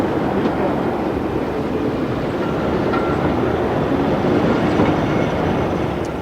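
A mail train runs through a stormy night, a steady, loud rumble of rolling stock with faint rail clatter continuing unbroken throughout.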